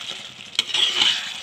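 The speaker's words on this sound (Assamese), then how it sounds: "এইখিনি আকৌ অকণমান সময় মই ভাজি ল'ম।" Fish sizzles with salt in a hot pan while frying for a fish curry. A steady frying hiss carries throughout, with a brief clatter of stirring partway through.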